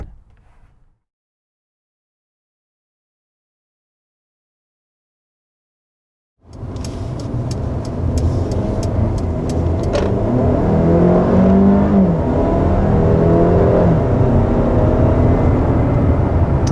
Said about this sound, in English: And that's 60 miles an hour in this new GLA